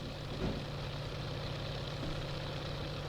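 A tractor engine in Farming Simulator 22 runs at a steady low drone, with a constant rumble and hum at a fairly close, even level throughout.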